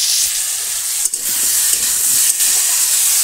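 Food sizzles loudly and steadily in a pan in a village kitchen as a gourd and snakehead fish curry is prepared, a constant close frying hiss broken by a couple of brief stirring knocks.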